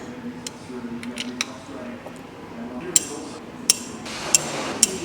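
Sharp metallic clicks from a torque wrench tightening Holden 308 engine main caps to 40 foot-pounds, four distinct clicks spaced about a second apart over faint workshop background.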